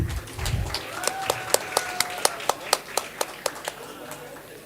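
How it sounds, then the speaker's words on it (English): Audience applause at a degree certificate distribution ceremony: a run of about a dozen sharp, evenly spaced hand claps, fairly near and distinct, over a low murmur with a voice briefly at the start. "A huge round of applause, everyone."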